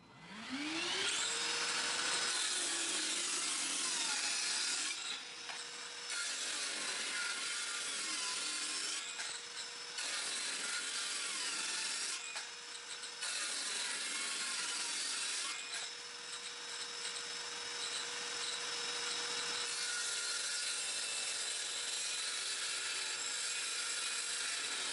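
A power saw cuts through wooden boards with a loud, steady whine that rises and dips as each cut bites, while a vacuum cleaner drones continuously underneath throughout.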